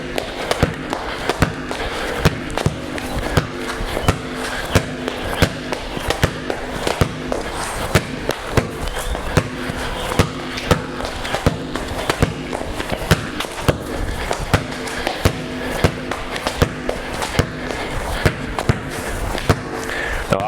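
A basketball dribbled repeatedly on a hard outdoor ground during a training drill, producing a long run of sharp, irregular bounces close by with a steady background hum and occasional louder slaps.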